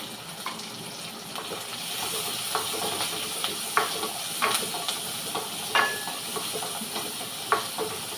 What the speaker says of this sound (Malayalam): നല്ലപോലെ വഴറ്റണം